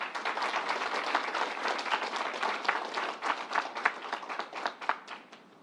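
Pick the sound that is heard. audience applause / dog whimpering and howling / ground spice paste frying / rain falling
audience applause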